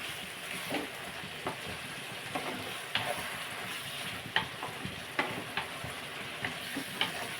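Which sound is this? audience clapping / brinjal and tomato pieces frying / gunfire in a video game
brinjal and tomato pieces frying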